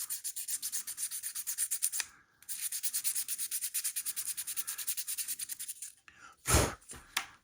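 Fast rhythmic scratching of sandpaper rubbing back and forth on a plastic model car body part, steady strokes close up, with a short pause and a louder scrape near the end.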